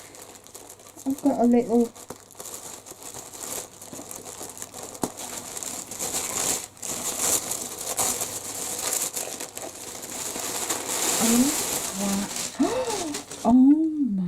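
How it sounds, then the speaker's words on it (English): Paper mail package being cut and opened with scissors, a steady stretch of close crinkling and rustling paper with short bursts of talk at the start and end. "see if I can use my scissors to open it."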